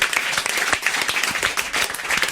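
A studio audience on a French radio show applauds technician Gilles Normand, a brief burst of close, dense clapping lasting a couple of seconds.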